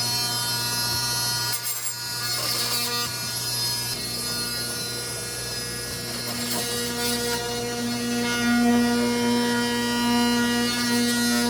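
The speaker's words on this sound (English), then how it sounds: "And I think we'll get our multi-tool." An oscillating multi-tool buzzes steadily while cutting out an old hose in the cramped plumbing of an old yacht, a close, continuous whine that grows slightly louder toward the end.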